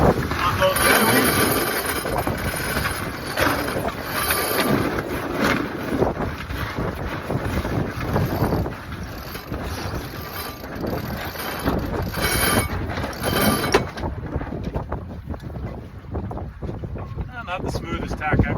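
A sailboat comes about through the wind, and the recording is full of steady roaring wind buffeting and rushing water close by. A voice speaks briefly during the tack.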